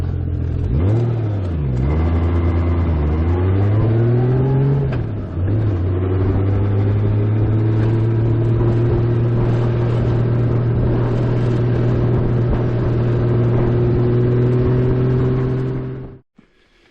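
A 1992 Honda Goldwing GL1500 Aspencade motorcycle engine revs briefly, then settles into a steady low droning hum while cruising at 100 kph on a country road, loud and continuous throughout before cutting off at the end.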